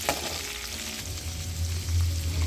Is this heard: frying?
yes